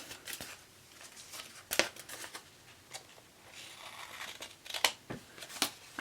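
Scissors snip paper for a small black-and-white planner spread, quiet close-up cuts in a scattered series of short crisp snips with light paper rustling between.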